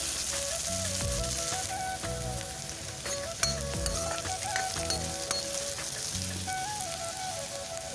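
Potatoes sizzle and crackle steadily in a hot pan with turmeric, a bitter gourd dish in progress, with rhythmic stirring scrapes recurring over the continuous frying hiss.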